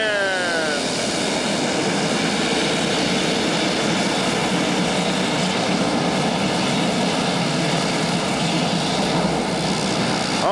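Air Force propeller trainer planes taxi at Ardmore, their engines droning loud and steady throughout with a rising and falling pitch as they move nearby.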